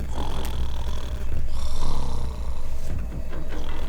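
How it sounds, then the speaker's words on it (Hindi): A man snoring in a jail cell, heavy rasping breaths rising and falling in long rhythmic waves, loud and close, with no talk over it. "क्या खर्राटा मार रहा है भाई ये?"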